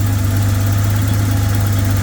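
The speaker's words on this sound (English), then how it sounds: "I just started the car and it seems to be idling just fine." A Datsun 280ZX Turbo engine idles steadily just after starting, a close, loud, even low rumble with a faint rhythmic pulse and no talking.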